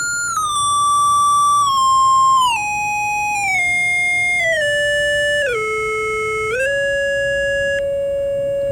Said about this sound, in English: a triangle wave, and it's sort of in between.